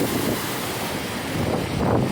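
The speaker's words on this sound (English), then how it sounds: "these waves are kind of coming in like they're heading from the southeast here" Lake Michigan waves wash steadily onto a beach at Kewaunee, Wisconsin, a continuous rushing surf mixed with gusty wind buffeting the microphone.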